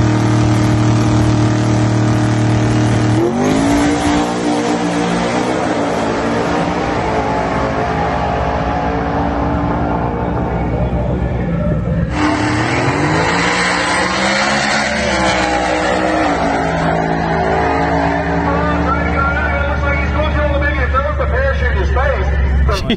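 A 3000-horsepower Ford Coyote V8 in a white Mustang street car screams up to 10,000 RPM, a loud, sustained high-pitched engine wail that rises in pitch, cuts off, then climbs again.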